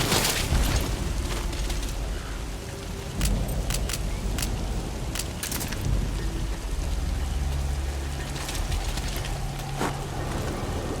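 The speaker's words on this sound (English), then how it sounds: "Sound of rainfall should help to mask your footsteps." Rain falls steadily in the video game Metal Gear Solid 5, a continuous loud wash of drops with sharp cracks of individual drops and a low rumble underneath, no voices.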